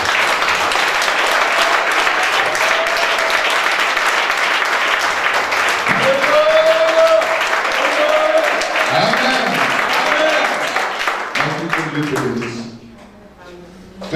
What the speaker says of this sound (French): Acclamez la parole de Dieu.